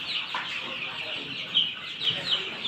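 Fayoumi chickens cluck steadily inside a boarded poultry farm building in winter, a dense flock chorus at moderate volume with a few sharper calls standing out near the end.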